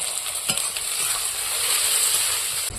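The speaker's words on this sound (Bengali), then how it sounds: "পেঁয়াজটা লাল লাল করে ভেজে নেব" Chopped onions frying in a pan with bay leaf and whole cumin until reddish, a steady close broadband sizzle with occasional stirring scrapes, no talking.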